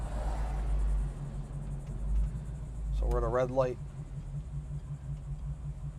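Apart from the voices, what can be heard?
1967 Chevrolet Camaro engine idling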